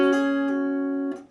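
Slow guitar phrase from a song intro: a few picked notes ring and overlap, with a fresh attack near the end, played close and clear without speech.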